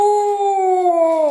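A 3-year-old Siberian Husky lets out a single loud, close howl, a clear sustained tone that slowly drifts downward in pitch over about a second.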